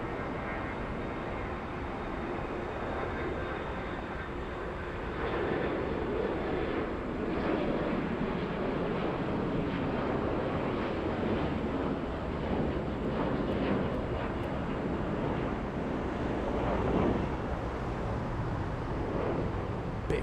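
An airliner takes off at Atlanta Hartsfield-Jackson airport, a broad, steady jet roar heard from a distance with wind noise, holding nearly constant and swelling slightly over twenty seconds.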